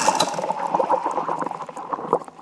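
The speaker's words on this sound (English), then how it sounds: "See, that's still bubbling away." Aerated power steering fluid bubbling inside a Land Rover 300Tdi power steering pump that is drawing in air: a continuous close fizzing, popping gurgle with irregular small bursts, alone and moderately loud.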